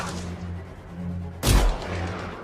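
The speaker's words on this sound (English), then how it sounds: "Time to use that mortar." A single loud mortar shot booms out in a video game battle, a sudden sharp blast with a deep low thump that dies away within a fraction of a second over a steady background hum.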